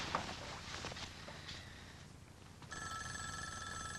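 A telephone starts ringing partway through, a bright, steady electronic trill that follows a stretch of muffled movement and footsteps in a quiet house setting.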